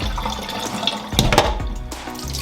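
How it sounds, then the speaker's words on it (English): Water pours and splashes off fish in a kitchen sink, a steady close running gush with a brief louder surge partway through before settling back. "I'm just gonna drain this water off."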